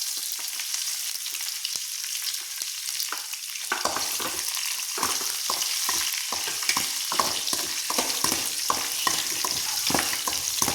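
Curry leaves, chana dal, cumin and mustard seeds crackle in hot oil, a steady sizzle at first, then repeated scraping stir strokes join in close up, with no voices.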